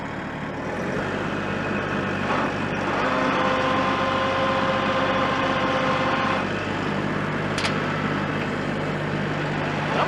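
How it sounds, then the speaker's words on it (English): A Massey Ferguson 1835E shuttle-shift tractor with differential lock engaged revs under throttle during a dirt pull test, a steady loud engine drone with a rising tonal whine mid-way, no voices. "I'm going to try to engage the differential lock, give it a little throttle."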